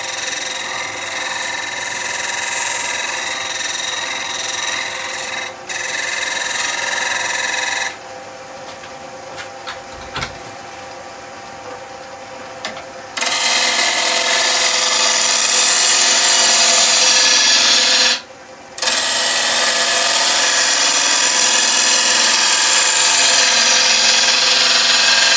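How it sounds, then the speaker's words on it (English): A woodturning tool cutting a wooden bowl on a lathe, in a bowl made of resin and wood. It gives a loud, continuous rough scraping hiss that stops and starts across several long passes, with brief pauses. "At the moment, of course, we're just cutting timber, so it's no different than a regular bowl."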